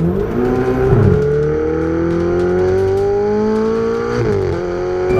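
Ferrari 488 GTB with ESC switched off, driven hard: a loud, close engine roar climbs steadily through the revs, dips briefly on a shift around the fourth second, then pulls upward again, continuous throughout.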